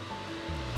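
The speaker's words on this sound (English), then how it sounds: "You can hear my kettle in the background, it's quite loud, sorry." A kettle heats water toward a boil, giving a steady hissing rumble with a faint high tone, close and continuous through a very short moment.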